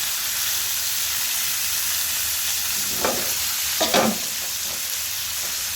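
Rui fish frying in a pan, a constant hiss of hot oil with a couple of brief louder crackles and splatters as the pieces are turned over.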